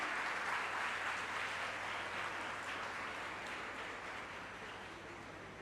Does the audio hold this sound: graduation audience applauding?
yes